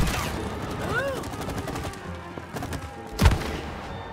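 Gunfire from the co-op video game It Takes Two, a fast volley of shots with a sharp louder burst near the end, mixed with game effects and a brief rising tone.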